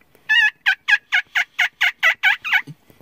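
A man imitates a wild turkey gobble using only his cupped hand, with no call or device: one long rattling burst followed by about nine rapid, evenly spaced gobbling notes, close and loud, with no talking.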